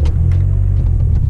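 A Mazda Mazdaspeed 3 engine rumbles from inside the car, with a loud, steady low drone and no talking.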